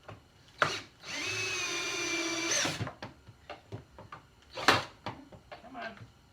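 Power drill driving screws into a wooden bar stool, with a sustained whirring burst and a shorter second burst close up, separated by brief clatter and someone talking.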